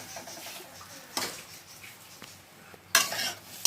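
Semolina being stirred and fried in a pan makes quiet scraping and a faint sizzle, broken by a few loud metallic clanks of the spoon against the pan.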